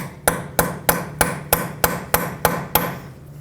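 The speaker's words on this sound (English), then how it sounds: "take a punch that fits in there or any other tool that you might have and give it a few taps" A hammer taps a punch against a Toyota Camry axle nut eight times in an even rhythm, each strike a sharp, close metallic knock with a short ring, and no talk.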